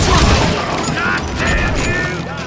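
Gunfire in the Call of Juarez: Gunslinger video game, a dense, continuous fusillade of shots in a Western shootout around Lincoln, loud and close, with a voice talking over parts of it.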